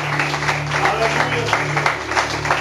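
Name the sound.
church congregation applause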